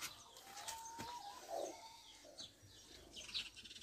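A fallen baby bird gives faint, scattered chirps and short calls, a few thin peeps and a brief flutter, heard close but quiet in an otherwise calm outdoor setting without talk.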